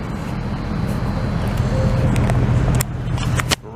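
An old, rusted car with a 360 V8 engine gives a deep, rumbling burble on an evening street on Park Avenue in Montreal. The close, steady growl fades out near the end.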